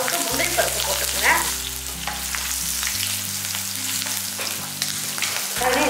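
Cashews and spices frying in ghee in a pan for ghee rice, a loud steady crackling sizzle close up with occasional stirring scrapes, under a low sustained background tone.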